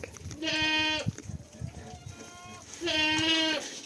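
Two loud, drawn-out goat bleats near the start and end, from a doe in heat, with quieter shuffling and rustling noises between them.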